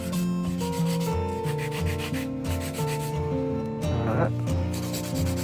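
An electric nail file machine buzzes steadily while shaping almond-shaped nails, a continuous grinding rub heard under loud background music, with one brief spoken word.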